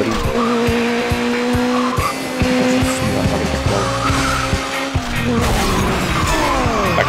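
Cars racing and skidding in Burnout Legends, with loud engine drone, repeated tire squeals and sharp impacts throughout, some talk faintly underneath.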